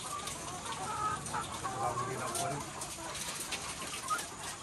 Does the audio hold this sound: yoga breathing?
no